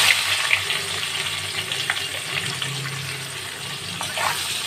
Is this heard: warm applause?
no